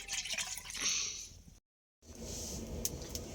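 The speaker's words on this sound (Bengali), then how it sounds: "পুকুর ঘাট থেকে চালটা ধুয়ে নিয়ে আসবো" Rice is rinsed in water at a pond ghat, with soft splashing and trickling nearby, a brief silent break, then more gentle sloshing.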